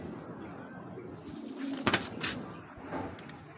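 A male Jira pigeon coos softly nearby, a few low throaty calls rising briefly over a quiet background.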